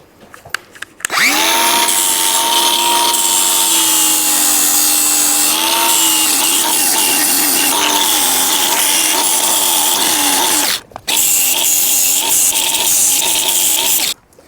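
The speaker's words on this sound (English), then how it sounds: "I don't like to get too much into here or inside the metal when I grind" Power grinder biting into stressed metal on a broken Exmark mower, a loud sustained whine that starts abruptly, holds with a slight pitch dip, cuts out briefly near the end, then resumes.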